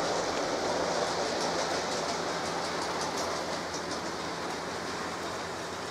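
A model Flying Scotsman locomotive running along a layout track gives a steady rushing rumble with faint rhythmic clicking, continuous and fairly loud, with no voices.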